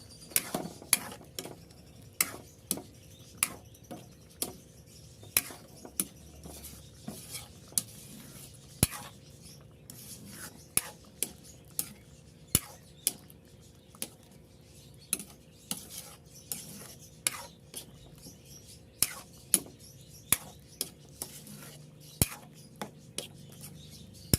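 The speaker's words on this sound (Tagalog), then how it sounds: "Haluin lang ng haluin." A utensil repeatedly scrapes and clinks against a pot of coconut milk in a steady stirring rhythm, with a faint bubbling simmer underneath, while cooking Bicol Express.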